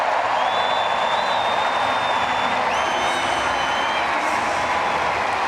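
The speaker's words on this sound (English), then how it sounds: "they see her on the big screen and they start to cheer." A stadium crowd at a London Diamond League women's 100m hurdles meet cheers in a dense, continuous roar, with faint whistles rising above it throughout.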